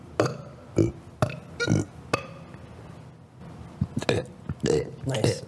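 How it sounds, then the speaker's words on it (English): Several loud, short burps come one after another up close, mixed with people talking and laughing. "You know I can unlimitedly burp?"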